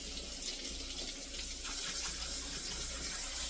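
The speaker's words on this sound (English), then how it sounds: "Rinse this bad boy with cold water" Cold tap water runs steadily into a kitchen sink while chicken is rinsed under it, a close, continuous splashing hiss that grows slightly fuller and louder partway through.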